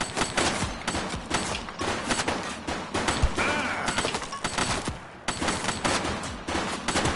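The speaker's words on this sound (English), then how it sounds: "Shots fired!" Dense bursts of gunfire fill a shootout in the police video game The Precinct on PS5, rapid volleys and single shots cracking nearly continuously with brief gaps, loud and close.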